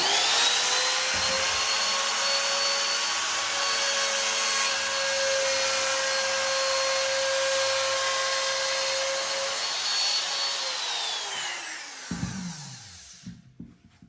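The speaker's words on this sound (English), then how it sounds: "So router on." A router spins up with a high, steady whine and cuts wood strips for kumiko pieces, holding a constant tone for about ten seconds before winding down, followed by a few light knocks.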